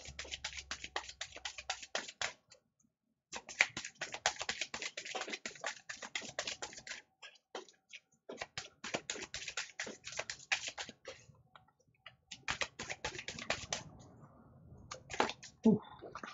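Tarot cards are shuffled and drawn at close range in quick, dense bursts of papery clicks and riffles, broken by short pauses and ending with softer handling sounds.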